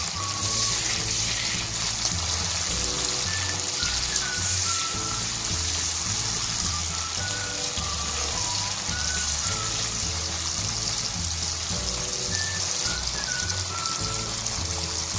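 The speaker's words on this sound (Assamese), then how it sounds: "এতিয়া মই বিলাহীখিনি অকণমান দেৰি ভাজি ল'ম" Tomatoes and onions frying in a pan give a steady, close sizzle with a constant hiss throughout, while soft background music plays underneath.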